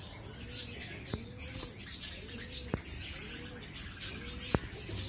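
Soft pigeon cooing repeats in low rolling phrases, with a few sharp clicks and faint outdoor noise around it.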